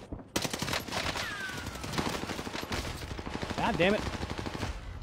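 Rapid automatic gunfire crackles loudly and almost continuously in the video game Call of Duty Warzone, with a brief outburst of speech cutting in over the shooting.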